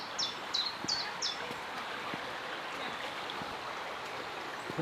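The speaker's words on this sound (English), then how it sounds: "Just the sound of the river and nature itself." A steady rush of the River Teign flows continuously at close range, with a few high bird chirps early on and faint rustling in the background; no one speaks.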